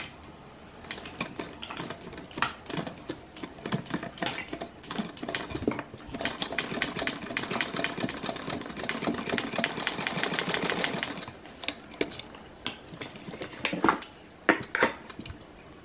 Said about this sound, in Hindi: इसको फोल्ड करके और यहाँ पे हम लोग सिल लेते हैं इसको थोड़ा